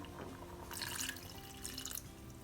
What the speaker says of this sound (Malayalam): ഞാനിവിടെ പുളി പിഴിഞ്ഞ് വെച്ചിട്ടുണ്ട് അതിൻ്റെ ജ്യൂസ് മാത്രം ഞാനത് ഒഴിക്കാൻ പോവാണ്